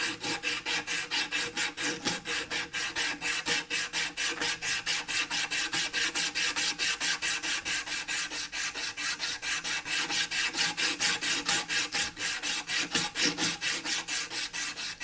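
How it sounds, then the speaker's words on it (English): Sandpaper rubs rhythmically on a carved wooden spoon in quick, even back-and-forth strokes, a steady raspy scratching that runs close and constant throughout. "I'm going to slide the sandpaper up through here, and I'm just going to do this."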